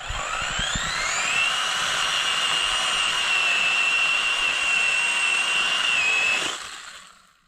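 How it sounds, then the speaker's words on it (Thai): A Thai-made electric saw cuts through wood with one loud, continuous high whine that climbs slightly in pitch, holds for about six seconds, then cuts off and fades. "ตัดให้พี่น้องเบิ่งว่า เลื่อยตัวนี้มันใส่ดีเลยพี่น้อง"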